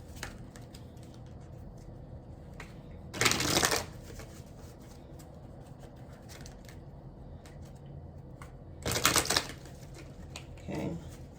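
Energy Oracle cards being shuffled, two loud fluttering riffle bursts several seconds apart and a softer third near the end, with quiet handling sounds between them, no speech.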